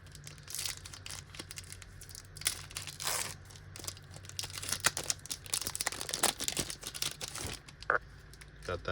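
Foil wrapper of a Secrets of Strixhaven collector booster pack being torn and crinkled open up close, with irregular crackling bursts and rustles throughout, quiet and near.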